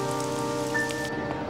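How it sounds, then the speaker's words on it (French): Steady rain pours down on a surface, a dense even patter lasting throughout with no voices. "Tu ne te rends pas compte qu'il pleut?"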